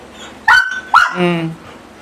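A Belgian breed dog yips and whines in two short, rising bursts close by, followed by a brief whimpering tone.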